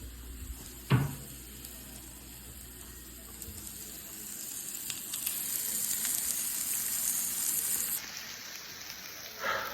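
Expired Spam and crab meat sizzle in expired salad oil, a steady frying hiss that swells through the middle, with a soft thud near the start and another at the end and no voices.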